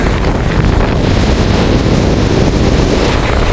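Strong cyclone winds blowing in Jaffna, a loud, continuous roar buffeting the microphone from start to finish with no letup and no voices.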